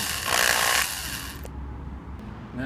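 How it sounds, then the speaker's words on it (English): A power drill bores a hole into a Ford Focus door latch. It makes a loud, whirring burst for about a second, then tails off into quiet room noise. "And drill right in."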